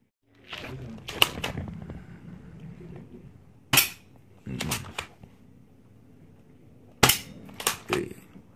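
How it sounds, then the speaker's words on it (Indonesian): A Tech9 toy gun with an enlarged magazine tank fires at a target in a run of sharp, loud cracking shots, singly and in quick pairs, with mechanical clatter and voices in between. "Coba kita tembak target."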